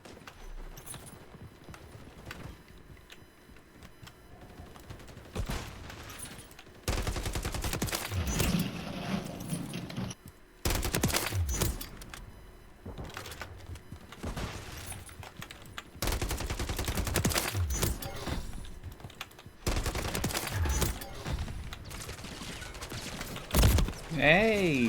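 Bursts of rapid gunfire from the Modern Warfare III beta video game in a headshots-only match, loud volleys alternating with quieter gaps, alongside other in-game noise and occasional talking.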